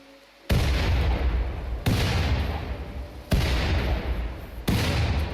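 Four loud, booming grenade explosions from the video game Rimworld go off at regular intervals, each with a sharp onset and a long, noisy, rumbling tail, with no talking.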